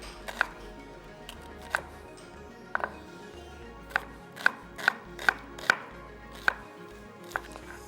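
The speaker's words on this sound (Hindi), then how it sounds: "थोड़ी सी प्याज इसके अंदर डाल देते हैं, मोटी मोटी सी काट के" An onion is coarsely chopped with a knife for a chicken mince filling, giving about a dozen crisp, close knocks on a board at an uneven pace over a quiet background.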